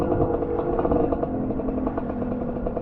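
Kawasaki KLX250 dirt bike engine running steadily while riding an off-road trail, a continuous close buzzing drone with uneven throttle pulses and light clatter, no pauses.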